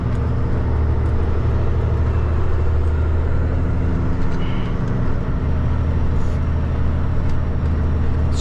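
Loaded semi truck at about 80,000 pounds gross, jake braking down a steep hill, giving a loud, continuous, rumbling engine drone that holds steady throughout over road noise, close up from inside the cab.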